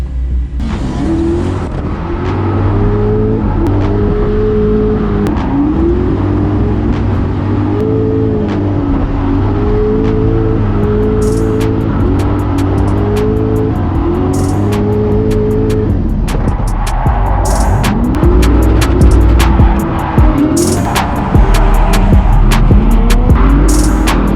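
Drift car on a practice run at the Schudni Drift Cup 2022 in Slovakia: a loud, close engine revving in repeated rising and falling sweeps, with tire squeal and crackle building later as the car slides.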